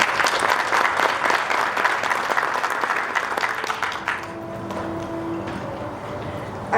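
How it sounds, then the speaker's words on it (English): Steady applause from a graduation ceremony audience for a graduate of the CCMS Class of 2021, a dense crowd clapping that fades after about four seconds, leaving quieter clapping and faint tones. "let's give a round of applause to Ulysses Castro"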